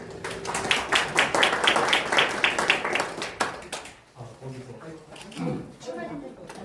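Audience at a policy forum applauding to welcome a presenter, a burst of clapping for about four seconds that fades as a few voices talk near the end.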